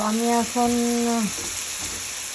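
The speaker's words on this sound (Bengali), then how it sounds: "আমি এখন করতেছি, মশলাগুলোকে কষাইতেছি, ভালো করে কষাবো এখন মশলাগুলোকে।" Spices frying in a pan for fish curry give a steady, close sizzle. A clear sustained tone sits over the first second or so, and the hiss continues alone afterward.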